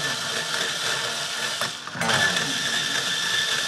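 Someone swaps out a guitar pickup, producing a steady run of ratcheting mechanical clicks and grinding. It sounds close and continuous, with a brief dip near the middle and no talking.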